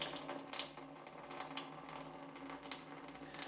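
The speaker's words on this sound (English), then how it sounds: "I'm going to send water back through to clear it out" Water is pushed back through a Hydroblu Versa Flow filter to flush it, producing a close, quiet trickling and spurting flow with small bursts, without speech.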